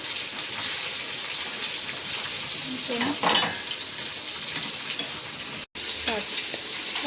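Bottle gourd pieces fry in hot oil with a steady, fairly quiet sizzle and crackle, with occasional stirring scrapes, and a voice talks briefly at low level.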